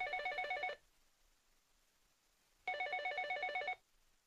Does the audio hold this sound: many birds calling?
no